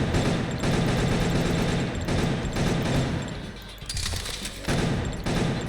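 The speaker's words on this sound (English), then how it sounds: "Just fire at the thing." Rapid bursts of video game gunfire crackle and rattle continuously, dense and loud, with brief dips before firing resumes in sustained volleys.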